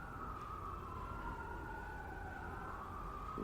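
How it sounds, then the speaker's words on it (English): Emergency vehicle sirens wail outside, distant and faint, holding a slowly wavering tone under a constant rumble of background noise with no talk. "If you can hear the sirens out right now"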